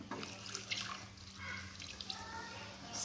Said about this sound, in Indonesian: Kita beri air ya,